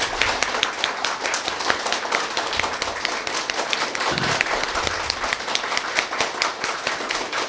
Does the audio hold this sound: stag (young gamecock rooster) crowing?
no